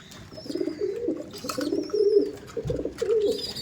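Pigeons coo close by in several repeated bursts during hot weather, with thin chirps and some soft background noise.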